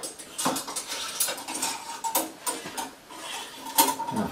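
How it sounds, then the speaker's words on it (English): A long metal bar, about three feet, is handled and fitted into a lathe chuck, with a run of light metallic clinks, taps and rattles at close range. "I'm going to put this in the chuck."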